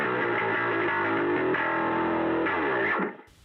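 Bass guitar through a pedalboard's foot-switched distortion channel churns out sustained, fuzzy notes for a few seconds, then cuts off abruptly into near silence.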